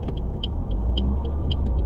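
A car's engine idles with a low steady rumble while a learner driver is at the wheel, with faint repeated high ticks above it, close and continuous.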